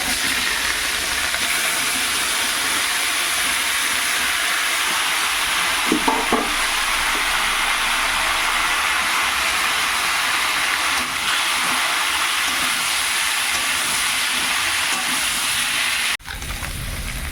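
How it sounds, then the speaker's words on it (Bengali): Cauliflower and potatoes drop into hot oil tempered with cumin. A loud, continuous sizzling hiss lasts throughout, with a brief clatter partway through and an abrupt shift near the end. "আর এর মধ্যে এই যে ফুলকপি আলুটা আমি ঢেলে দিচ্ছি।"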